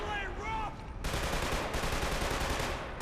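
Gunfire rings out in the video game Killzone 2, a sudden dense burst of rapid automatic shots that starts after a moment of game sound and keeps going loudly to the end.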